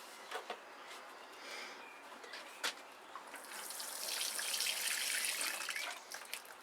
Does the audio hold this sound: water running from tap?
yes